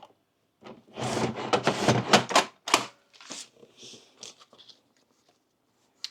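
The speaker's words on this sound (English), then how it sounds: "We're gonna write her name on it." Marker pen scratching out a name on a handmade plant stake, a close run of quick dry squeaky strokes for about two seconds, then sparser short scribbles trailing off into quiet.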